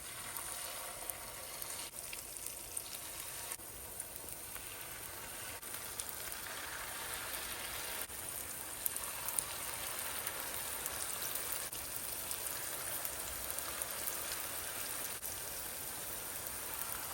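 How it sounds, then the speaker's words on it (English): Minced beef bolognese fritters frying in a pot of hot oil, a steady crackling sizzle running throughout with no voices. "I'm gonna go ahead and drop these fritters. So add some oil to your pot, get it nice and hot."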